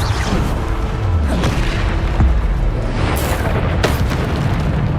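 Bombarda spell explosions in the Hogwarts Legacy video game: loud, dense booming blasts and crashes layered over continuous battle noise, with sharp impacts recurring through the clip.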